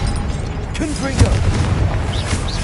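Confringo explosive blasting spell in Hogwarts Legacy, a loud boom bursting out amid a busy game soundscape, with a voice speaking over the blast.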